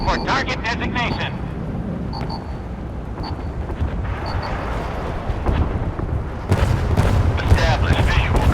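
Warship missiles launching in the Force of Warships naval game, a rumbling low roar that swells into a louder blast near the end, with chirping interface tones and a voice speaking over it.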